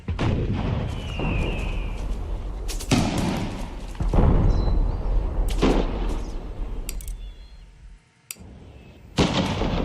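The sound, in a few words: artillery duel in video game Empire: Total War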